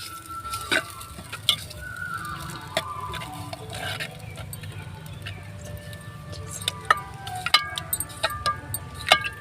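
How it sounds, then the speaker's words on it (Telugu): Moong dal cooked with bachali (Malabar spinach) greens being stirred in a pan, soft scraping and clinking under a steady low sizzle, with occasional sharp utensil taps against the pan. "ఈ పప్పు మొత్తం పోసేసిన తర్వాత ఒకసారి బాగా కలిపేసి"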